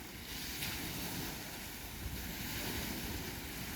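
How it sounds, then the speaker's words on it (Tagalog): Choppy waves churning on Lake Manitoba, foamy water rolling and splashing in a continuous close wash with wind buffeting the microphone. "Maalon. Ayan, mabula ang tubig"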